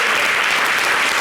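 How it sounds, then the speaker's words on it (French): Dense, loud applause from a studio audience on a French-language TV variety show, a steady wash of clapping with no breaks. "C'est quoi ces applaudissements?"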